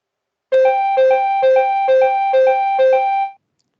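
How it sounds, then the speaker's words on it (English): An ETCS train cab warning alert sounds before the brakes are applied: six crisp, evenly spaced two-tone electronic chimes, loud and close, each a quick high-then-higher beep, stopping abruptly after about three seconds. "a sound, a warning alert that the brakes are about to be applied if the driver doesn't react quickly"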